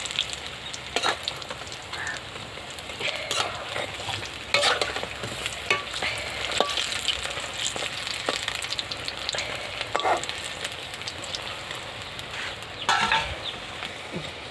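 Cauliflower pakoras fry in hot oil, a continuous crackling sizzle broken by frequent clinks and scrapes of a turning utensil, fairly close and steady throughout.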